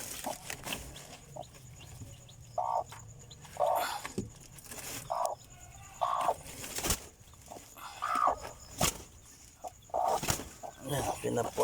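Chickens cluck in short, repeated bursts nearby, with occasional sharp knocks and a faint human voice in the background.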